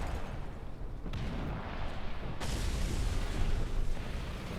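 Artillery strike in the video game War Thunder: a sustained dull, rumbling roar of distant shelling and explosions with a broad noisy wash and a couple of sudden shifts, and no voices.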